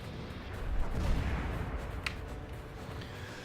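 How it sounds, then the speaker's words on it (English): Artillery shells bursting in a World War II tank video game, a low rumbling barrage swelling and fading with a sharper crack midway, heard at moderate distance without talk. "Dodge a little artillery and try to figure out what I need to do"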